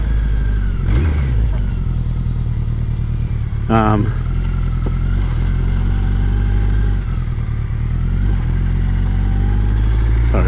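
BMW K100 sidecar motorcycle engine running close and loud, with a steady throb and a brief rev, while someone talks over it.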